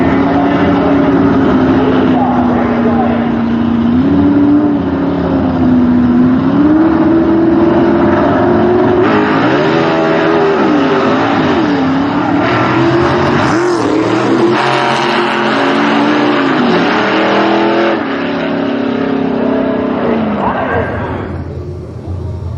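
An A/Gas gasser drag race car making a run: a loud, sustained engine roar whose pitch climbs and wavers over about twenty seconds before fading at the end, with speech-like sound mixed in.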